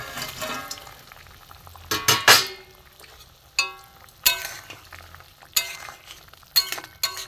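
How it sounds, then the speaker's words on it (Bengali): Prawn-head fritters dropped into boiling gravy in a pan, a soft bubbling sizzle broken by several sharp clinks and stirring knocks of a utensil against the pot. "এবার আমি জলটা ফুটে গেছে আমি এই বড়াগুলো সব দিয়ে দেবো"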